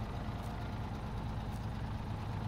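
A truck engine idles in the SnowRunner video game, a steady low rumble with a constant dense drone and no variation, close and alone.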